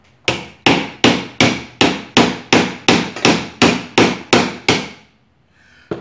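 A key tip is struck with about thirteen evenly spaced, sharp metallic taps to drive a Philco blender shaft down, close and loud, followed by a brief quiet pause.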